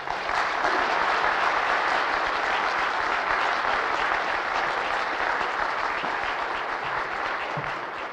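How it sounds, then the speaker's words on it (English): A Nova Scotian audience applauds steadily and densely for the full stretch, a loud sustained wash of clapping with no talk over it. "Would you come up and give him a round Nova Scotian applause?"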